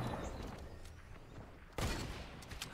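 Gunfire in Fortnite, a video game, crackles in quick bursts at moderate loudness, with a sharper burst near the end and no talk.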